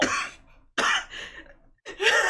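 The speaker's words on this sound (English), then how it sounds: "having a coughing fit over this" A person coughs hard in three rough bursts, separated by brief pauses, loud and close.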